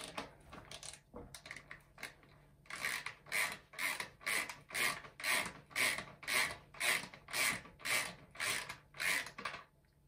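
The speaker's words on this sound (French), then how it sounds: "on commence par enlever cette vis de 17 dans un premier temps" A 17 mm bolt is worked loose on a motocross fork triple clamp, heard as a steady series of about a dozen rhythmic ratcheting rasps, close and fairly loud, after a few scattered clicks and no talk.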